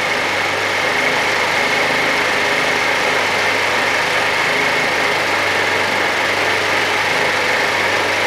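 A £100 Chinese GY6 scooter engine runs steadily just after starting, a continuous buzzing idle heard up close without pause.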